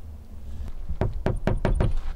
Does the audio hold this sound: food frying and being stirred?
no